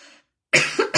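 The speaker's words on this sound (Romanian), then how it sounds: "Nu știu de ce tușesc." A single harsh, loud adult cough with a short double burst, following a brief moment of quiet after faint background sound.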